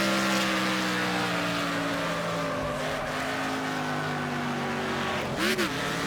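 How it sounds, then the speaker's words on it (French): An American V8 car engine in a racing video game holds a steady high drone, then shifts gear with a brief rev, loud and close. "le bruit de moteur est magnifique"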